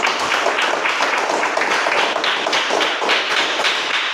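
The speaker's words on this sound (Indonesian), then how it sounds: "Mari kita tepuk tangan." A classroom of students claps together: close, loud, continuous patter of many hands with a slightly uneven rhythm, no talking over it.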